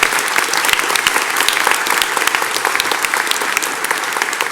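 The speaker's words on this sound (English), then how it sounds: "Come on, that's worthy of applause, isn't it?" Loud, dense audience applause at a Florida cancer-center funding event, sustained evenly throughout with no pauses.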